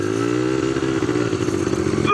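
An ATV engine running with a raspy, buzzing tone, a slight rise in pitch near the start and a steady hold after, loud and close with no clear talk.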